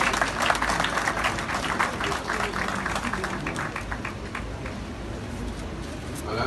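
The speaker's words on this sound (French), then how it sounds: "je demande à l'assistance d'applaudir l'ensemble du cabinet ministériel." Steady audience clapping at the installation ceremony of the Haitian prime minister and cabinet, a dense, even patter of hands lasting several seconds at moderate distance.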